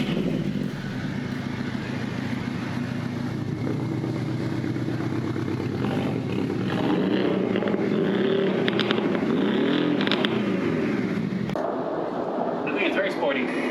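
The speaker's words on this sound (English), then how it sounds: "you can hear the typical boxer sound" A Stage 2 Porsche 718 with a boxer engine and GT4 body kit revs with a rough, throbbing exhaust and clattering crackles, rising in the middle, while people talk over it.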